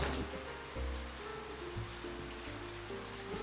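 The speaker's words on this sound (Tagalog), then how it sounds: "Biglang umulan ng malakas." Steady, dense rush of heavy rain, continuous and close, with a faint low hum underneath.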